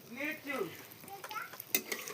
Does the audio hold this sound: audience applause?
no